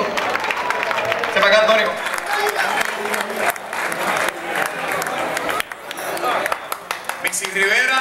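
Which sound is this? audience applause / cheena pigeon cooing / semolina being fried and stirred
audience applause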